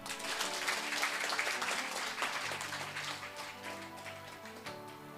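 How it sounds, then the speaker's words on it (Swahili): A church congregation applauds with dense clapping at moderate level, fading somewhat after a few seconds over a faint sustained background tone, with no speech. "Mpe Bwana makofi."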